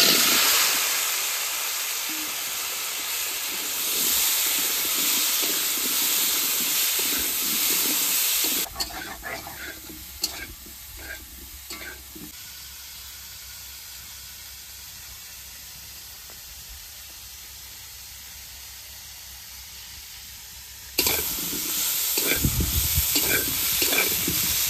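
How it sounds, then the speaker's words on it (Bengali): Cauliflower frying in oil left over from fried fish, a loud steady sizzle that drops to a quieter crackle with occasional stirring clicks midway, then surges back to full hiss near the end. "এবার মাছ ভাজা তেলের মধ্যে সব সবজিগুলো ভেজে নেব। প্রথমে ফুলকপিটা ভেজে নেব।"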